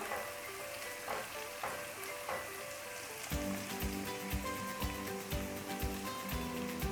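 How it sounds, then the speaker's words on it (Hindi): Spices with half a teaspoon of ground fennel dry-roasting in a pan for minced-meat bhuna keema, a steady close sizzle and crackle with faint clinks, no voices. "इसको थोड़ा सा भूनते हैं मसालों को"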